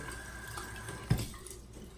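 Warm water runs quietly from a tap to wet a shaving brush, a soft steady trickle with a brief splash as the brush meets the stream, no speech.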